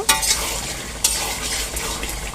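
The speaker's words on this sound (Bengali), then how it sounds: "মাংসগুলো প্রায় 30 মিনিটের মতো কষিয়ে নিয়েছি এখন ভালোভাবে নেড়ে চেড়ে নেব" Beef for biryani stirred in a pot after about thirty minutes of frying, with two sharp scraping clinks of a utensil over a steady close sizzle and no voices.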